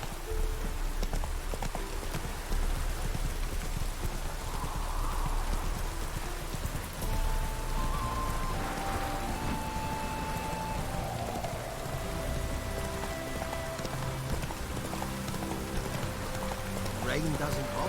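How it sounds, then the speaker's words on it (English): Steady rain pours down in The Witcher 3 video game, a dense continuous patter on surfaces with horse hooves clopping through it and voices speaking over the downpour. "No use doing any work in this rain."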